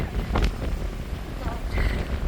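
Gusty seaside wind buffets the microphone with a low rumble, broken by faint bits of talk in the background.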